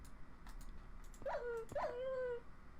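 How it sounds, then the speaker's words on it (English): A Minecraft dog gives two short rising-then-falling whines, close together and fairly clear, over faint keyboard clicking and low background noise. "Oh, dog."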